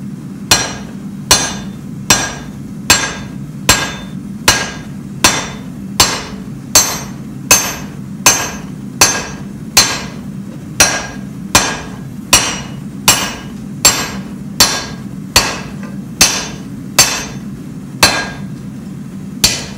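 Steady hammer blows on a hot steel seax blade drawing out a long taper toward the handle, about twenty sharp ringing strikes in an even rhythm, loud and close with no talk.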